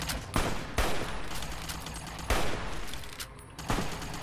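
Enemy gunfire in Fallout: New Vegas on very hard hardcore difficulty, a few sharp shots spaced over several seconds, loud and clear over a steady game background with no talking.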